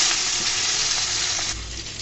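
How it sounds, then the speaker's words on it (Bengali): A piece of fish frying in a pan for a mashed fish and jackfruit seed bhorta gives a loud, continuous close sizzle, steady and dense, easing slightly near the end. "মাছটাকে একদম লাল লাল করে আমি ভেজে নিব।"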